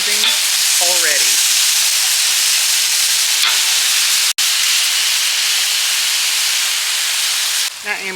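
Chicken searing face down in a hot pan gives a loud, steady sizzle and hiss that runs continuously, with a brief break midway and a few faint clinks near the start.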